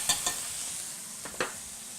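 Drained capers, a few smashed, sizzle in a pan with chicken fond: a steady bright hiss broken by a couple of quick scraping stirs near the start and again later.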